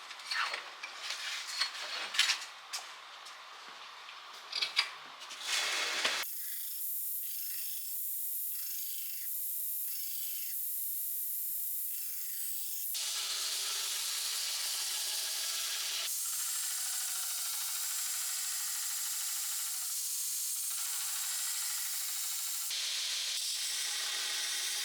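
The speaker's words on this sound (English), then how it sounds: "hop over the grinder, and hog off lots of material, and get our edges beveled in" A grinder hogs off steel to bevel the edges of a multi-bar twist Damascus bowie knife. Uneven scraping and handling noises give way to steady, loud grinding that shifts in tone in a few stages, with no talking.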